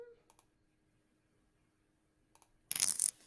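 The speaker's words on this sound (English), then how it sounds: "And shuffle them." Playing cards from the Skulk Hollow board game get a quick shuffle, a dense papery riffle burst arriving near the end after a mostly quiet stretch with a few faint clicks.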